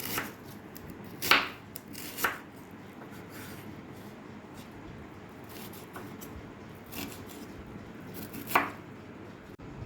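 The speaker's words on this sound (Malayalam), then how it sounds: "സവാള ഇതുപോലെ കട്ട് ചെയ്ത് ചെറുതായി അരിയാം" Several sharp knife chops through an onion on a cutting board, spaced irregularly a second or more apart, close and fairly quiet against a soft background.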